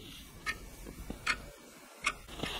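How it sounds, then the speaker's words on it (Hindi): A clock ticking sound plays from a mobile phone at low volume, heard close up as about four evenly spaced light ticks over a quiet room background. "मोबाइल में मैंने टिक टिक करके जो है प्ले कर दिया साउंड, बहुत ही कम वॉल्यूम में"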